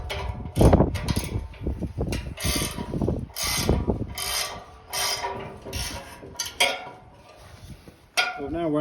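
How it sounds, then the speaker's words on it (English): Threaded rod wound by hand to press a socket into a Land Rover chassis, close-up ratcheting clicks and grinding metal scrapes in uneven bursts, with short gaps between turns. "I've now wound the whole of the socket inside the little chassis bit there"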